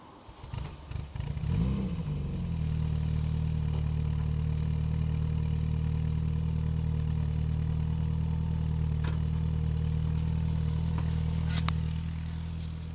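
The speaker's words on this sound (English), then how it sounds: "I will start it up for you." A 1981 European-market VW Golf GTI engine, recorded near the exhaust after sitting three or four days, cranks and catches after a couple of seconds, then settles into a steady, loud, low idle that continues evenly to the end.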